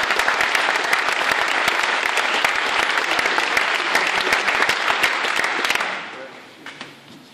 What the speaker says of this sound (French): Alors on peut les applaudir, je pense.